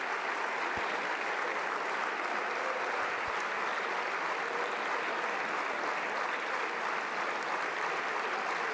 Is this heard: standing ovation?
yes